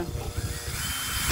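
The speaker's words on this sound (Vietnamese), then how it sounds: "Rồi khoan bắn vít có cấp trượt nè." A new Makita cordless screw drill running at slow speed, a short continuous motor whir with a low grinding rumble, close and steady, with no talk over it.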